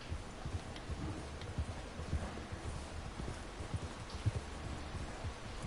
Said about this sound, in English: Get that horse in line, Arthur.